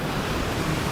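Ocean waves and surf roar as a steady, dense wash of noise throughout, with no speech over it.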